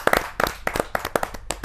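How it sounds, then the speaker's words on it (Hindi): An audience at a Hindi kavi sammelan claps to welcome a poet, a short, uneven burst of hand claps rising and fading over a couple of seconds. "जोरदार ताली के साथ रसिक गुप्ता जी का स्वागत।"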